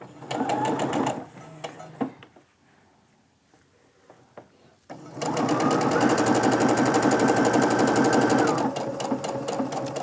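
A sewing machine stitches quilt seams on 60-degree triangles in two bursts, a short run at the start and a longer steady whirring run after a quiet pause, ending with a few lighter stitches.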